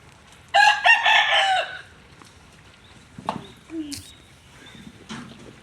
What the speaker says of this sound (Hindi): ये मेरा मुर्गा, ब्यूटीफुल बर्ड